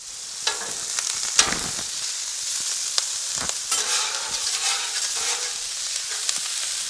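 One pound of 80-20 ground beef fries in oil on a Blackstone griddle, crackling and spitting up close. Sharp spatula scrapes and taps cut through the sizzle at uneven moments.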